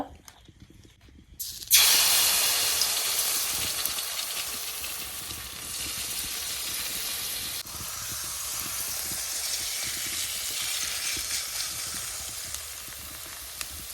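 Patisapta batter, a Bengali rolled crepe, meets a lightly oiled hot pan and breaks into a sudden loud hiss that settles into a steady sizzle, fading slowly over the following seconds, with no one talking.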